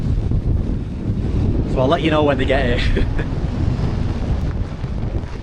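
Strong wind buffets a snowy hillside at a winter wild camp, a loud, continuous roar battering the microphone, while a person speaks briefly partway through.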